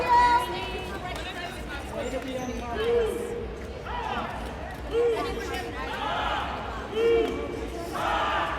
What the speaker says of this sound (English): As the crowd shouts, you can hear